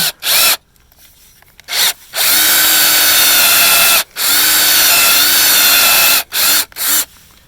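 A power drill bores into an aspen bowl blank to set a pole lathe mandrel, loud whining bursts that start and stop several times, with two long sustained runs broken by brief pauses.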